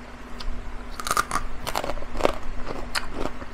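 Sharp, crunchy bites into crispy lechon pork sisig sound close to the mic, a few loud crackling crunches followed by chewing, with no talking.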